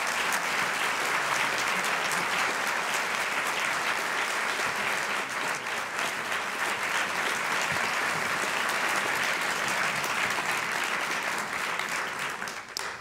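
Sustained audience applause welcoming former Senator George Mitchell at a business and peace negotiation talk, a dense steady clapping of a large crowd lasting about thirteen seconds and tapering at the end.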